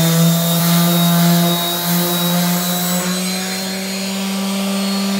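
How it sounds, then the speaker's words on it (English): A steady mechanical whine with strong humming tones, a power sander running continuously up close on wood filler on a cabinet, with a slight shift in pitch partway through. "So we start sanding like this area here."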